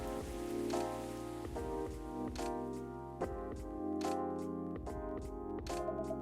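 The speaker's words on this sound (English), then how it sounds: "I think the rain is over." Steady rain falls in the video game Coffee Talk, a soft wash mixed under mellow piano and beat-driven café music with regular percussive taps, no talking.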